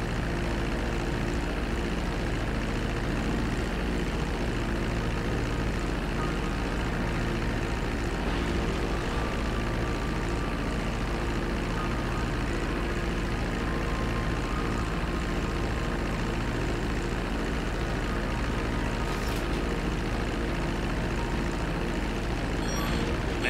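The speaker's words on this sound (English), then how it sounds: "Bring the plane back in." A propeller plane drones steadily in Grand Theft Auto, a continuous, even engine hum that stays loud and unchanging throughout with no talking.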